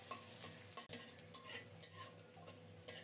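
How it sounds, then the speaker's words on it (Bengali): Chopped onion frying in hot oil in a home kitchen for a shrimp dish, a steady close sizzle broken by a few stirring scrapes of a utensil, with no talk. "তেল গরম হলে কুচানো পেঁয়াজটা দিয়ে দিলাম। পেঁয়াজটাকে একটু লালচে করে ভেজে নেব।"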